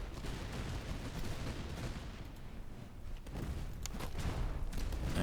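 Redcoat recruits fire a musket volley at French fusiliers on a Master of Command battlefield, a dense rolling crackle of many shots merging into one sustained roar, with a brief lull and then renewed bursts.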